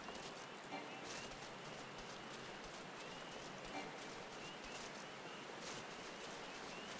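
Steady rainfall over the forest of the Shroud in Final Fantasy XIV, a dense, even hiss of drops that stays constant and moderately loud with no clear breaks.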